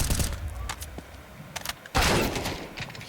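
Counter-Strike 2 rifle fire in a LAN esports match, several sharp gunshot cracks in quick succession, then a louder burst of rapid shots, heard close and punchy.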